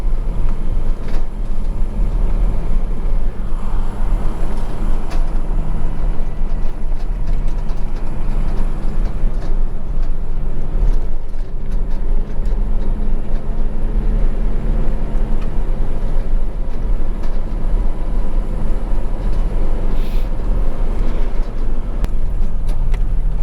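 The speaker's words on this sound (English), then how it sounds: "stuck in there and it's grinding at the rotor" A vehicle with a rock stuck between its brake pad and rotor, driving on a road, gives a constant grinding scrape over a steady low rumble that lasts throughout.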